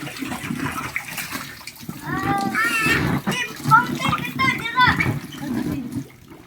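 An outdoor water fountain splashes steadily while children's voices and chatter rise over it, the running water forming a constant wash under the talk.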